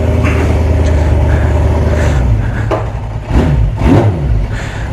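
An old Honda 750 Four motorcycle engine running at a low idle, a loud close rumbling pulse with a brief blip of revs near the end, on a cold day.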